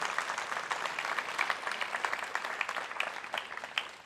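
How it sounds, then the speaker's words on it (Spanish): A church congregation claps loudly in praise during a sermon, a dense, lively round of applause from many hands with sharp individual claps standing out over roughly four seconds. "Dale un fuerte aplauso a nuestro Dios todopoderoso."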